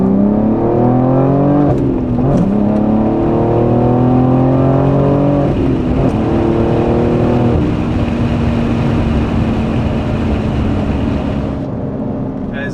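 A BMW S58-engined G80 M3 or G82 M4 exhaust rises steadily in pitch as the engine pulls hard through second gear from 2,000 RPM, loud and droning, then shifts and settles lower.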